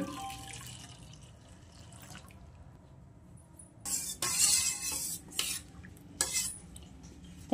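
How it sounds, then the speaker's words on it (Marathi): A spoon stirs sugar into warm milk in a bowl for cake batter. It starts as quiet faint scraping, then turns into louder clinking and swirling bursts in the second half, with no voices. "हलवून घेऊयात अशी बारीक। साखर वितळून घेऊयात ह्याच्यातली।"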